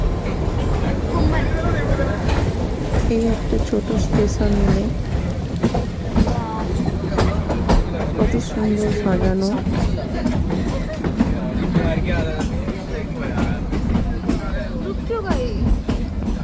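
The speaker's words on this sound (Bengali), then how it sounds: "পরপর কতগুলো স্টেশন এলো, ট্রেন দাঁড়ালো, আবার ছেড়ে দিল" Toy train on the Shimla line in July rain, rolling with a continuous rattling clickety-clack and carriage rumble at close range while a voice talks over it.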